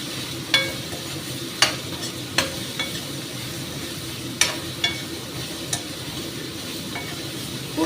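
Kohlrabi curry fries in a pan with salt and turmeric, giving a steady, moderate sizzle with light scraping stir clicks at irregular intervals, close and without talk.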